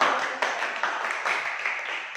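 Students in a classroom applaud a group, a brief burst of brisk clapping from many hands, fairly close and even, with no voices over it.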